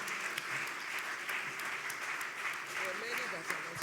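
An audience claps steadily in a conference hall at an evening session, a sustained wash of applause at moderate distance with a voice talking over it.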